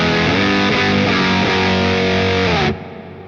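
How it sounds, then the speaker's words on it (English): Electric guitar chords played through a fuzz distortion drive pedal, thick and sustained, ringing loudly for nearly three seconds before cutting off abruptly into quiet hiss. "when you put more gain and you really gun it, is to do the fuzzy distortion kind of chord thing"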